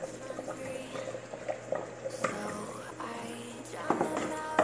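Cassava bubbles in a pot beside already-cooked beef rib for vaca atolada, a faint, low simmer with scattered soft pops and light clinks, no voices.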